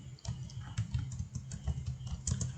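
Light, quick keystrokes on a computer keyboard while typing C code, a soft, irregular patter of clicks that stays close and quiet for a couple of seconds with no talk.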